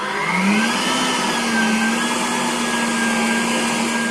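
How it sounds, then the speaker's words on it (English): An electric stand or hand mixer whirs steadily and loudly, beating butter, sugar and egg for red velvet cupcake batter, its motor pitch holding level with a slight rise as it speeds up. "I use the machine to beat it"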